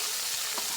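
Spices sizzle steadily in hot oil with onions fried to a reddish brown; a short, even frying hiss with one soft stir partway through, no voices.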